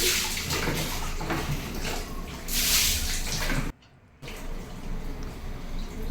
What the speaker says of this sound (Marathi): आता बाथरूममध्ये पाणी पाणी खेळते छान.